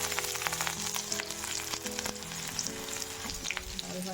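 Patnashali dal is tempered in hot oil and spices, giving a steady, close crackling sizzle with scattered pops and no talking.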